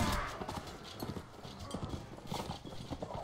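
Horse archers gallop in a Mount & Blade Warband battle, a steady drumming clatter of many hooves with battle noise mixed underneath.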